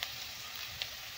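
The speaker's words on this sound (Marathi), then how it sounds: "आता आपल्याला घ्यायचा आहे कांदा भाजून" Chopped onion frying in a pan for a veg momo filling gives a steady, quiet sizzle with a soft, even hiss and a couple of faint pops, heard alone for just over a second.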